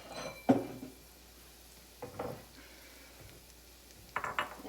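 Small kitchen bowl being set out while food cooks, with a few separate clinks and knocks of dishes spaced apart against a quiet background.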